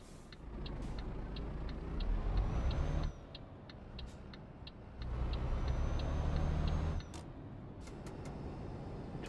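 A Volvo FH 460 truck engine in Euro Truck Simulator 2 drones steadily, rising and falling as the throttle changes, with regular ticking indicator clicks and a short hiss near the end, and no talk.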